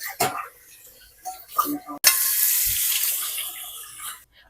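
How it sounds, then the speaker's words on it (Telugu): Dishes are lightly rinsed under running water before loading a dishwasher: brief clinks and splashes give way to a loud, steady rush of tap water for about two seconds, then it stops. "జస్ట్ కొంచెం లైట్ గా వాష్ చేసేయండి, మరి ఎక్కువ వాష్ చేసుకోవాల్సిన అవసరం లేదు."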